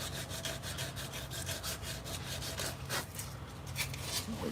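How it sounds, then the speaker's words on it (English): Hand sanding of a wooden roller piece, a steady rough rubbing and scraping with repeated back-and-forth strokes, close and continuous throughout. "Gotta get this thing sanded out."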